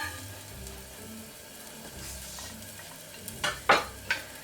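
Garlic and ginger fry in neutral oil with a soft, steady sizzle, and near the end a few sharp stirring scrapes from a utensil against the pan cut through. No one talks.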